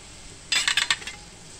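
Onion and green chili being stir-fried in a pan, a short cluster of sharp metallic scrapes and clinks of a spatula against the pan, brief and close, with no talking.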